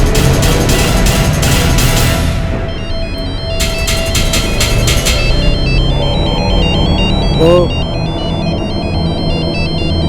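A mobile phone ringtone plays loudly in a repeating electronic melody, cuts off, then returns in shorter bursts and softer tones, with a brief voice exclamation in a tense crime-drama scene.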